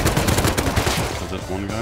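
Gunfire in the video game Rust rattles off in a dense, loud, rapid burst of automatic shots, followed by a voice speaking briefly at the end.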